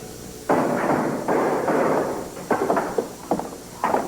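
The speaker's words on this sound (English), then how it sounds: "I think you're nailing this thing right through the floorboards here" Hammering nails into wooden floorboards, a series of loud, close, uneven blows with short pauses between bursts and no talking.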